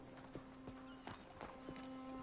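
Horse hooves clip-clopping at a walk in a PS4 video game, a handful of soft, evenly spaced hoof falls over a faint steady background hum, fairly quiet and without speech.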